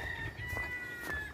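Chickens at a rural coop give a brief, faint burst of clucking and crowing lasting about a second.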